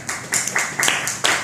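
An audience claps in several short bursts of applause, sharp and fairly loud, with a brief pause between each wave.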